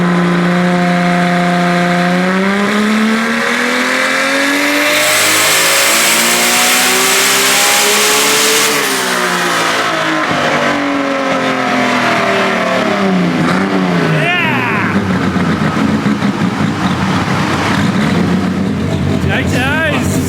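A Nissan S15 runs up on a dyno, its engine climbing through the revs with a loud rising drone and whine, then backing off and pulling again, close and loud, with people talking over it.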